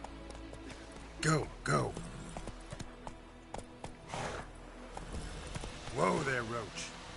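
Hooves of Roach, a horse in The Witcher 3, clip-clopping at a steady gait under game music, with a voice speaking briefly over the galloping.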